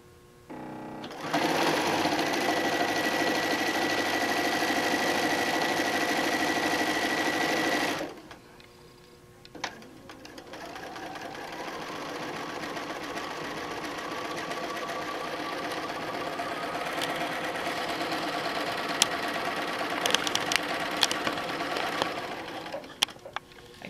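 A sewing machine quilting a line of stitching across a tote bag panel runs steadily and close for about seven seconds, stops briefly, then resumes a longer, slightly quieter continuous run to the end of the row.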